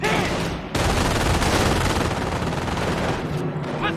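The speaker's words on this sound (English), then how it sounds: "Position taking fire!" Dense, continuous gunfire from a Company of Heroes battle in the Normandy campaign at Sottevast, rattling loudly and almost without pause through the whole stretch, with faint game voices underneath.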